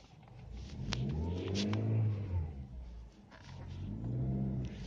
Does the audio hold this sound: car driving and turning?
yes